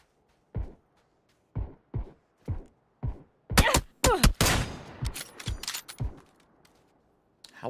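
Gunfire in PUBG: a string of sharp, separate shots, then a tight burst of rapid fire with a ringing tail, followed by a few more spaced shots, all fairly distant and without talk.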